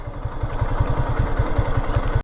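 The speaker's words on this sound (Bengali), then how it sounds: "বাইকটা একটু জোরে রান করবো" A Yamaha motorcycle engine runs close by as the ride begins, a loud, steady low throbbing pulse with quick regular beats and some rattle, cutting off abruptly at the end.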